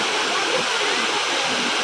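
Steady, broadband roar of a fast-flowing waterfall in Namakkal, Tamil Nadu, loud and continuous throughout, with no voices.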